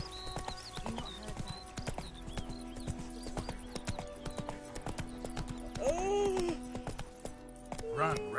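Roach the horse gallops through The Witcher 3: Wild Hunt with rapid, steady hoofbeats, close and moderately loud, with a short whinny around the six-second mark amid game ambience.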